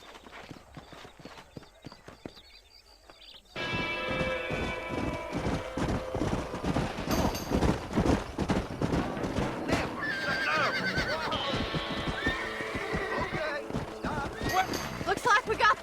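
Horses in Red Dead Redemption gallop with rapid clip-clop hoofbeats and neigh loudly; a quieter stretch with voices comes first, then dense hooves and whinnies build to a steady, close rush.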